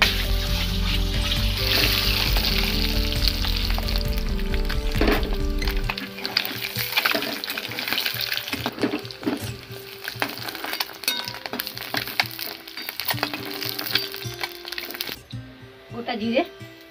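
Boiled eggs fry in hot oil in a wok, a loud sizzle that drops away after several seconds, then softer crackles and scraping stirs while a person talks over it.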